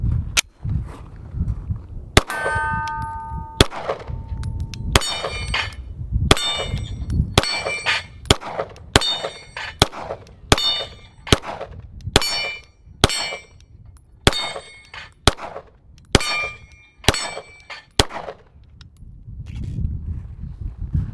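Rock Island Armory STK100 9mm pistol firing at steel targets: about fifteen sharp shots at a steady pace, each followed by a bright ringing clang from the plates, loud and close with no talk.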